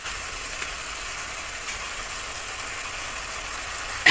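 Chopped tomatoes fry in a pan of spice masala for a fish and potato curry, giving a steady, even sizzling hiss that ends in a brief clatter.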